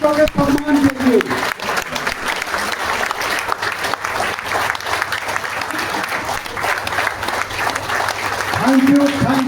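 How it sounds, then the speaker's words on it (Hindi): A hall crowd gives a standing ovation for soldiers at a Patel Seva Sangh gathering in Patna, with sustained, dense clapping that fills the whole stretch and brief speech at the start and end. "तो सारे लोग खड़ा होके 10 सेकंड उनके लिए ताली बजाएंगे, स्टैंडिंग ओवेशन देंगे सर अपने सारे सैनिकों के सम्मान के लिए।"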